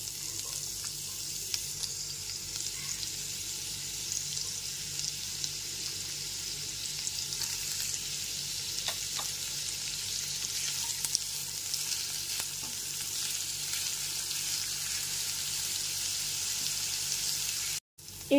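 Carrot pieces fry in a pan with a steady, close hiss and crackle of hot oil that holds at even loudness throughout, then cuts off abruptly near the end.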